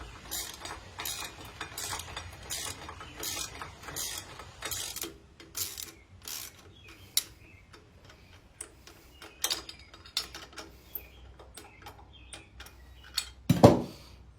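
A hand ratchet snugging down bolts on a motorcycle exhaust during a Samson Cholo fishtail install on a 1995-2006 Harley Softail, with bursts of quick close clicks, pauses between, and a sharp metallic clank near the end.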